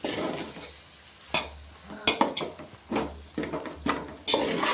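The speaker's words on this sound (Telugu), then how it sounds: "బాగా కలుపుకోవాలి కిందకి మీదకి." A spoon stirs borugula vagarni in a pan, scraping and clinking against the metal in irregular strokes over a soft sizzle, close and moderately loud.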